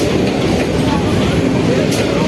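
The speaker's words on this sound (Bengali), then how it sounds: "চলো ট্রেন তো ছেড়ে দিল গাইস, ট্রেনটা দেখো, ওই একটা বজবজের ট্রেন চলে গেল" A local commuter train bound for Budge Budge pulls away from a station platform, its steady rumble and wheel noise loud and continuous throughout.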